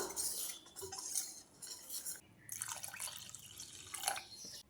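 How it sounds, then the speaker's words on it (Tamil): Flour batter whisked with water in a bowl, a busy wet clinking and sloshing of a utensil against the bowl, continuous and close with brief breaks, no voices. "இது கூட 3 டம்ளர் போல தண்ணி சேர்த்து கட்டியே இல்லாம மாவு கரைச்சி விட்டுறலாம்."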